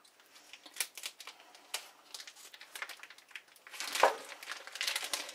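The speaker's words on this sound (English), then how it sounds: "let's have my kitchen scissors." Kitchen scissors snipping through plastic turkey packaging in a series of quick cuts mixed with crinkling rustles, close up and fairly quiet, no voices.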